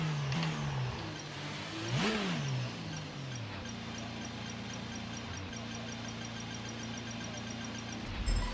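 An F1 car engine from the F1 22 racing game revs at a practice start, a steady mid-pitched drone that swells to a sharp rev peak and then settles into a sustained whir, with no talk over it.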